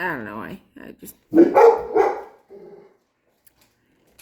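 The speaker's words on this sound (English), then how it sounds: "Excuse my dogs." Pet dogs bark indoors in a few short, close bursts, mixed in with a person talking casually nearby.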